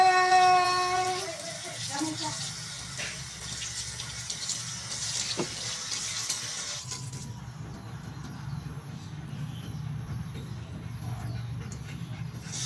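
A dog whimpers briefly at the start of its first shower, then shower water hisses steadily for the rest, with faint voices and movement underneath.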